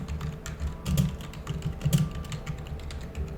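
Typing on a computer keyboard, a quick run of soft, close key clicks at an uneven pace with a few heavier taps.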